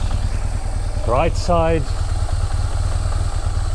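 A BMW R1200GS Adventure motorcycle engine idles with a steady low throb throughout, while someone speaks briefly over it.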